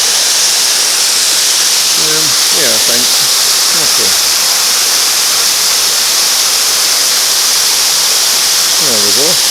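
A steady, roaring rush of falling water from a waterfall near the Douglas Hotel, Brodick, Isle of Arran fills everything with loud hiss, while someone speaks briefly and faintly beneath it.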